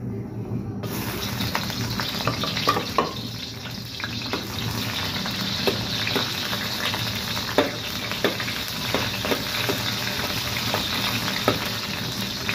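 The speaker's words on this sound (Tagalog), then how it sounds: "Panggisa. Unahin natin sibuyas." Onions sautéing in hot oil in a wok, a steady close sizzle with occasional scraping and stirring clicks throughout.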